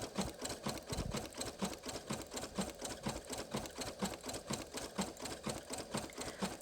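A Brother PE 800 embroidery machine stitches a patch with a steady, fast mechanical clatter, its needle rhythm repeating evenly and quietly throughout, with no talking.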